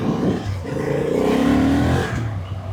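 A motorcycle fitted with an upgraded Delkevic exhaust revs up, the engine note climbing smoothly to a deep, throaty peak and then settling back down, close by and fairly loud.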